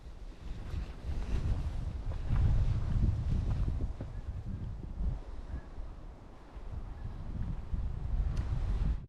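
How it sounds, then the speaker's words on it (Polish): Wind blows hard at a winter tent camp beside a lake on a cycling trip, a constant low rumbling roar buffeting the microphone in gusts, loudest around the middle, with no clear talk. "Tylko trochę wieje."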